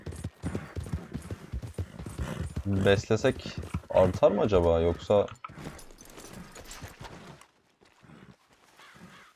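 Horse hooves clip-clop in Red Dead Redemption 2, a run of clear rhythmic clopping heard alongside someone speaking, then trailing off into quieter sounds.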